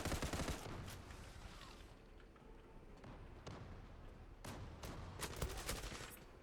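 Rapid bursts of FN FAL rifle fire in the online shooter Zula, loud sharp cracks in clusters over a busy game soundscape, with a heavy volley at the start and more bursts near the end.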